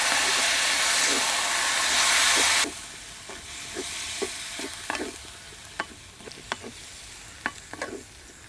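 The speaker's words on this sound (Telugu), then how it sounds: "ఇదంతా రెండు నిమిషాల పాటు బాగా వేయించుకొని తీసి పక్కన పెట్టుకుందాం" Loud sizzling frying of spices in a pan that drops to a quieter crackle, with regular scraping knocks of a spoon stirring throughout.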